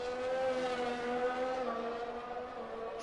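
An F1 race car engine in a Silverstone video game race drops to second gear and then upshifts early to third. The whine is faint and steady with rising and falling pitch, and no one speaks.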